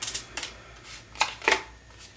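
Tarot cards being shuffled and drawn make several short papery riffles and snaps close by, coming in uneven bursts with brief pauses between them.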